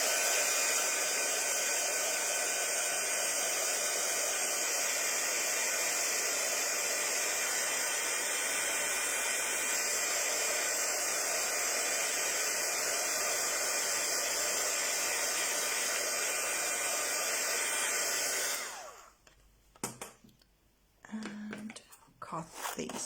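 A heat tool blows hot air onto water-soluble crayon with a loud, steady, close whooshing roar for about nineteen seconds. It then cuts off abruptly, leaving quieter handling noises and a little faint voice.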